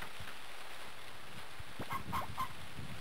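Chickens in a farming video game (Harvest Moon) give a few quick clucks over a steady background hum, with brief soft taps before them and no talking.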